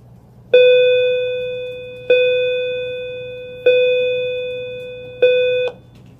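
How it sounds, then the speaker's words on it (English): An electronic school bell rings at the end of class, sounding four clear, evenly spaced tones. Each tone starts loud and slowly fades, with no voices over it. "that was the bell"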